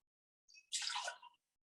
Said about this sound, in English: pour that right into the glass